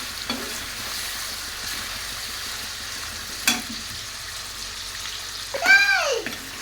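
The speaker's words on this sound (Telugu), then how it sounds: "చికెన్ ఇందులో వేసుకొని లో ఫ్లేమ్లో లైట్ గోల్డ్ కలర్ వచ్చేదాకా వేయించుకోవాలి" Chicken pieces fry gently in oil over a low flame with a faint, steady sizzle, broken by a few soft stirring scrapes and a brief clatter near the end.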